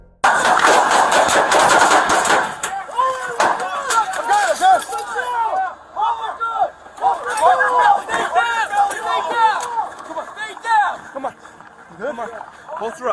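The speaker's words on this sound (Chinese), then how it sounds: "坎波斯突然从衣橱冒出来开火，朝他连射几枪" Several gunshots ring out from inside a closet during a police hostage standoff, a loud dense burst of rapid fire at the start, followed by chaotic shouting and clattering movement.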